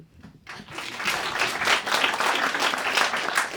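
A comedy audience breaks into applause that starts after a short quiet moment, swells quickly and then holds as a dense, steady wash of clapping from a full room.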